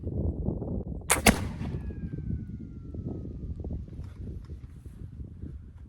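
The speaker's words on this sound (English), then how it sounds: "a little bit of a hang fire, but it still went off" A .44 caliber round ball fires from a flintlock musket with a slight hang fire, giving one sharp, loud report about a second in that rings off over steady outdoor background noise.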